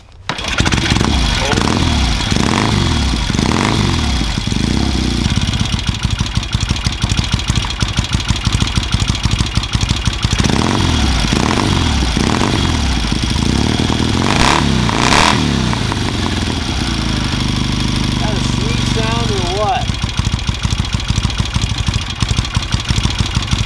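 A 1971 Norton Commando motorcycle fires up after several cranking attempts, then settles into a loud, close, lumpy idle with occasional blips of revving, and a voice talks over it at times.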